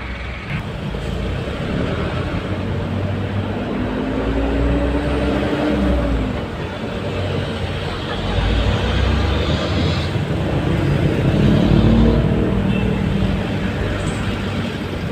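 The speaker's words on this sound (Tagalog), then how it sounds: "Traffic ulit." Road traffic rumbles past for about fifteen seconds, a loud, continuous wash of engine and tyre noise with several vehicles swelling and fading, some tonal engine hum rising and falling, and no talking.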